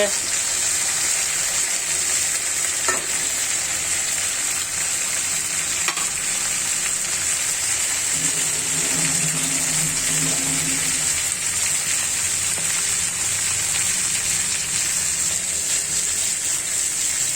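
Chicken pieces coated in oil fry in a pan with a steady, close sizzle that runs unbroken throughout, with a brief low murmur of talk partway through.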